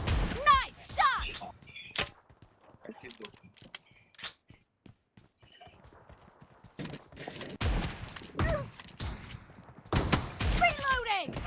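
Shotgun fire in a PUBG Mobile team deathmatch fight: sharp, loud blasts come in irregular bursts with short gaps between them, and voices talk over the gunfire.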